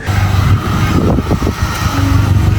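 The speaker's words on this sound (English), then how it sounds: "Car's basically busy idling at the moment." A car engine idles close by with a deep, throaty exhaust burble through a free-flow exhaust, steady with slight uneven pulses.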